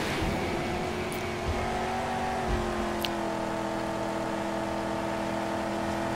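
Engine of a car in the Mad Max video game roaring at a steady, sustained drone, loud and close, with a couple of faint metallic clinks over it.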